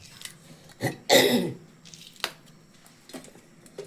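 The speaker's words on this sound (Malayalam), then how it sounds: "ചുമയുടെ ഒച്ച അങ്ങോട്ട് ശരിയായിട്ടില്ല" A single harsh cough close by, followed by some quieter throat-clearing sounds and small rustles.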